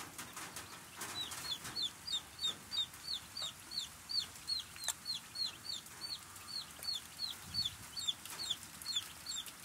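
Young chicks in a brooder chirping in a steady run of high, rapid peeps repeating about twice a second, with faint rustling underneath.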